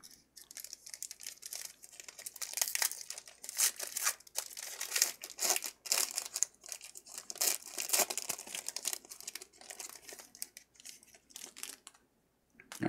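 Crinkling and tearing of a Chronicles baseball card pack's foil wrapper, close and busy, with bursts of rustling crackle over several seconds before a brief pause and a final crinkle.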